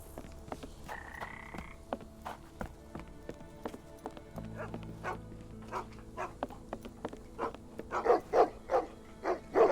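Dogs bark from two dogs at a boat hut in the Fisherman's Quarter of the Sherlock Holmes: The Awakened video game. Repeated sharp yaps and croaky barks build toward the end, mixed with faint clopping and a brief tone.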